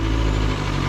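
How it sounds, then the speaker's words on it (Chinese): Four-cylinder sport motorcycle with exhaust valve open, a mid-capacity bike from a BMW contract factory, idling or running with a steady, loud low engine hum across the brief moment, close to the exhaust. "高转之后，整个排气会被发动机的声音给盖住一点"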